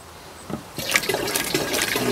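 Water is dumped into the coolant of a Ford 800 tractor's cooling system to thin it out, and a loud, splashing pour sets in after a brief quiet start.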